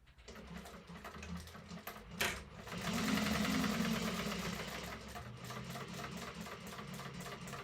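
A sewing machine runs a line of top stitching, its rapid needle chatter and motor whir steady and faint at close range after a brief knock, with no talk.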